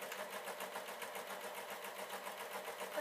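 Sewing machine stitching tartan skirt panels, a fast, even mechanical chatter of rapid repeating stitches running steadily throughout at close range, with no talk.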